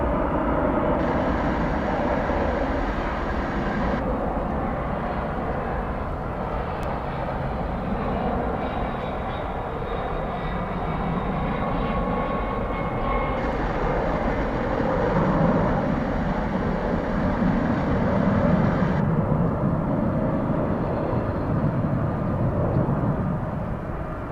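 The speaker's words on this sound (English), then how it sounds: "Here comes that UPS jet." UPS jet taxiing at DFW Airport, a steady loud engine roar and whine holding for the whole stretch, fairly close and with no voices over it.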